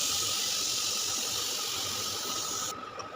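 Crushed ginger, garlic and chili chutney sizzling in hot oil, a loud steady hiss that runs unbroken before dropping slightly near the end.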